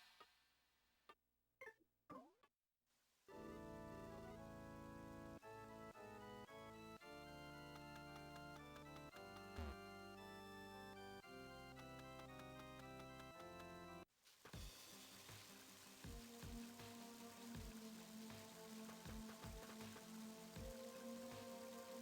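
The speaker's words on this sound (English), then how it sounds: "That's cold rain. I don't like it." Cold rain falls in the video game Mother 3, a steady, dense patter that takes over after a stretch of tonal game music and continues loud to the end.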